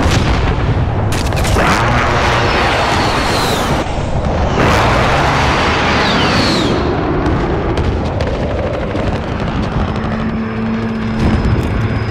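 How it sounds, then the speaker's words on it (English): A precision airstrike in the Call of Duty: Modern Warfare ground war mode sets off a rolling barrage of heavy booms and blasts, loud and continuous with sharp cracks and aircraft rumble layered through it. "Enemy precision airstrike."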